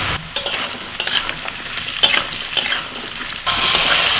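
Ridge gourd and potato sizzle in oil as a utensil stirs them in several distinct scraping strokes, and the frying hiss swells louder near the end.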